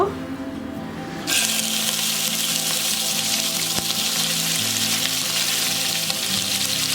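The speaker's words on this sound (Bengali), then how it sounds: "এর মধ্যে আমি চিকেনগুলো দিয়ে দিব।" Chicken pieces dropped into hot ghee in a pan set off a sudden loud sizzle that holds as a dense, steady hiss close by, with a quieter stretch before it.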